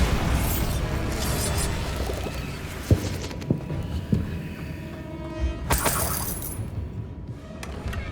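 A Bombarda explosion spell cast in Hogwarts Legacy, with a rumbling blast and scattered shattering debris, sharp cracks and pops at intervals and a bright hissing burst partway through, loud and close with no talk.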